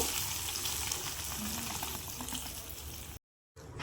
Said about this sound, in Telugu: ఈ పెరుగన్నంలో తాలింపు యాడ్ చేద్దాము